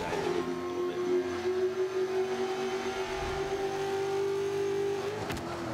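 Ford Raptor truck engine in Forza 5 holds a steady loud drone at near-constant revs, then briefly shifts pitch near the end, with no voices present.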